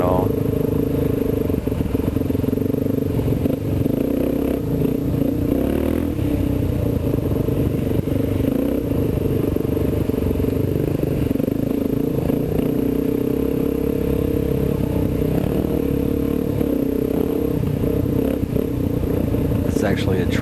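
A Kawasaki KLX dirt bike rumbles steadily along a tight, twisty trail, the engine note holding a constant mid-level drone with faint clatter throughout and no clear revving peaks.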